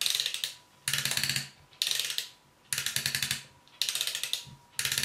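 Ratcheting plastic joint on a Black Mamba Grimlock action figure clicking close up in four or five quick bursts of rapid, evenly spaced clicks, each separated by a brief pause.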